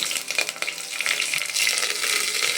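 Green chillies hitting hot oil in a pan while making vermicelli upma, a loud, dense hiss of frying that swells and crackles continuously from start to finish, close and alone with no talk.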